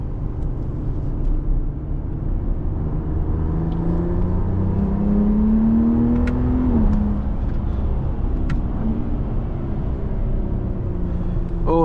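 A 2026 Ram 1500 RHO twin-turbo pickup truck accelerating hard, a steady loud engine rumble with a rising pitch that climbs, peaks and drops as it shifts. The engine drone continues without pause and no voices are heard.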